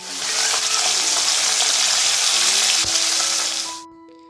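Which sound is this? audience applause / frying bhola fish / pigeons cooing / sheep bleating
frying bhola fish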